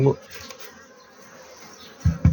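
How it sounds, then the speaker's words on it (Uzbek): Honeybees buzz at a hive during spring beekeeping work. A faint, steady hum runs throughout, with a couple of brief, louder buzzes or knocks near the start and end. "Arilar"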